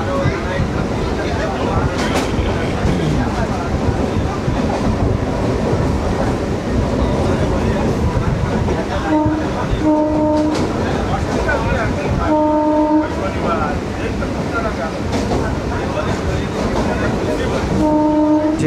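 A passenger train rumbles steadily along the tracks past green rice fields, with a continuous rolling roar, and a loud horn sounds several times in the latter half.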